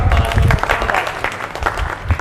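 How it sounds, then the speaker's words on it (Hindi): Brief applause at the inauguration of a workplace toilet, a short burst of clapping from a small gathering with voices mingling underneath. "तालियां।"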